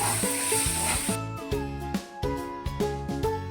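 Spices such as coriander powder sizzle as they are sautéed in a pan for a Bengali catla fish and cabbage dish, with a steady hiss under tonal music throughout.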